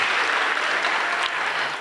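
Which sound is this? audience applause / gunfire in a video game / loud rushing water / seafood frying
audience applause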